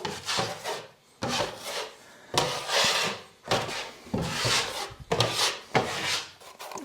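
A drywall knife spreads mud over screws and seams on a wall, giving repeated scraping, rasping strokes, each about a second long with short pauses between, heard up close with no talking.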